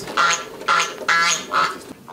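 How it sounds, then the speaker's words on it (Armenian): Domestic ducks quack in a crowded yard, four loud, close calls in quick succession with short gaps between them and no speech. "ընդհանուր աղմուկի մեջ լսելի էին հատկապես ընտանի այս թռչունների ձայները"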